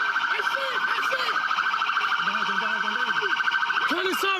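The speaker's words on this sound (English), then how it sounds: "Turn the siren off." A police car siren wails continuously and loudly at close range during a police shooting incident in Newark, with a steady cycling tone throughout and shorter warbling bursts layered over it.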